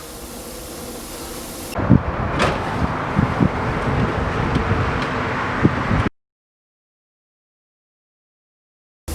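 Heavy front-hood nose of a C4 Corvette being flipped open in a garage, with clunks and a sliding, rumbling movement over steady background noise, ending abruptly in silence.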